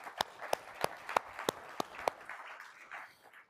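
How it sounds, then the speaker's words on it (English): Scattered, faint hand claps from a small audience for the Pathfinder team at a Rocket Pro TPO live event, about eight distinct claps in a loose rhythm before they thin out into quiet room tone. "round of applause to our Pathfinder team"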